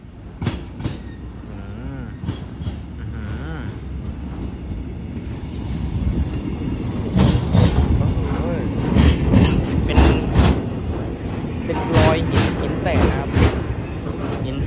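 A freight train hauled by a locomotive rolls past at Bua Yai Junction in Thailand, a loud, continuous rumble of wheels and wagons with rhythmic clicking and occasional squeal, building in intensity as it passes close by, with people talking over it.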